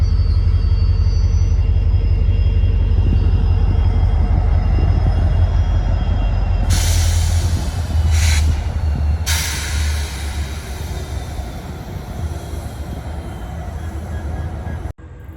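Loud, close rumble of a freight train of waste-carrying cars rolling past, steady clatter and grinding of rail cars with bright metallic squeals partway through.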